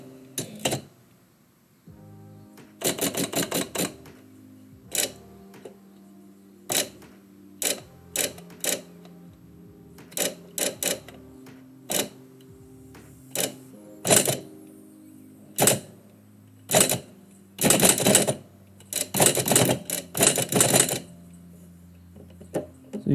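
Manual typewriter typing out poetry, close sharp key strikes in irregular bursts and single taps with short pauses, some rapid flurries of keystrokes and occasional mechanical clunks.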